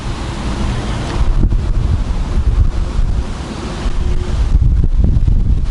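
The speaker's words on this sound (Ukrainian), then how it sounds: "сьогодні дуже сильний західний вітер" Strong westerly wind buffets the microphone in loud, continuous gusts on a Dnipro River bay in Kyiv, roaring and rumbling with surf-like swells and no voices.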